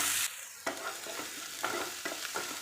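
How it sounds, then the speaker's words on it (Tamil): Cinnamon and chopped onions sauté in a pan for a raw banana dish, a close crackling sizzle with a sharp hiss at the start and a few quick stirring scrapes. "பட்டை, கட் பண்ணியிருக்கிற வெங்காயம் நல்லா வணக்கிக்கலாம்."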